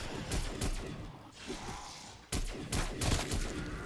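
Rapid gunfire from the Zombies mode of the video game Call of Duty: Cold War, a dense run of loud cracking shots that fires in bursts, pauses briefly and then resumes.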